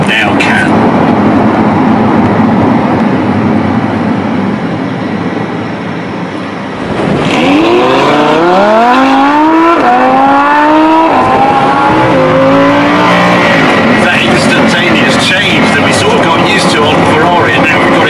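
A Lamborghini Huracan engine roars loudly nearby. After a brief dip it climbs through several rising gear sweeps, with whining harmonics and a hard, sustained acceleration under strong wind rush.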